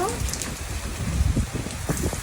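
Steady rain falls outside, with a dense continuous patter of drops close by and occasional louder splashes mixed in.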